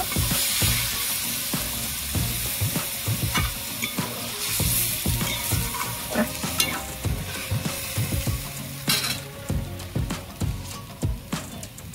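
Water goes into a pan of sautéed potato masala for a rui fish curry with raw mango, giving a loud, continuous sizzle and crackle under repeated scraping stirs of a spoon.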